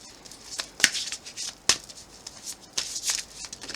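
Oracle cards shuffled and handled by hand, a run of quick papery riffles and slaps with a few sharper snaps, close and fairly loud, with no voices.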